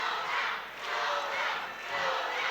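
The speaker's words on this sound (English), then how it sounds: "You can hear the support for Clona Colin. A huge crowd to one side of the ring." A large crowd at a boxing match roars in support of Clona Colin from one side of the ring, a loud, sustained cheer rising and falling in waves.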